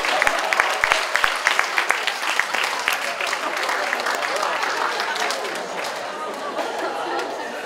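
Audience applause greets an arriving guest at a student representatives' assembly, sharp close claps at first that give way to steady crowd clapping mixed with chatter.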